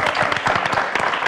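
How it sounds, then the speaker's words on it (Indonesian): An audience applauds at an Indonesian TV health talk show, a dense, steady wash of clapping that holds fairly loud throughout the short stretch. "Boleh dikasih tepuk tangan ya"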